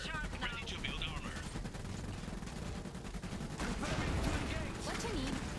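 Dense gunfire keeps going in the Iron Harvest real-time strategy game, with overlapping bursts and shots forming a steady, busy layer. Speech and other battle sounds sit mixed over it throughout.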